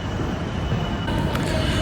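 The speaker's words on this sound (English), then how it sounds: "So we are here, Victoria bus and train station." Busy station ambience at London Victoria bus and train station forms a dense, loud rumble of trains and echoing background noise without a break.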